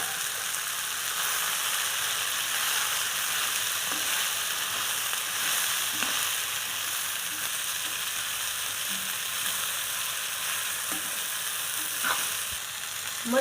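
Sprouted moth beans hit sautéed tomato and onion in a hot pan, giving a steady, moderate sizzle with occasional soft stirring scrapes, no talking.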